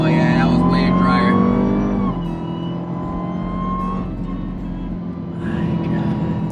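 A 2020 Dodge Charger Hellcat Widebody spins its wheels on a rain-soaked road, its engine droning loud and steady from inside the cabin before the revs ease off partway through.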